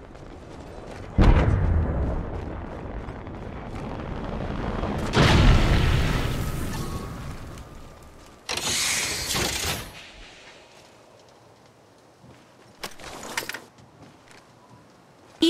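A Lifeline care package is called in during a match of Apex Legends Mobile: heavy booming impacts and a rushing descent, then a bright metallic whoosh and clanks as it lands, with quieter gaps between bursts.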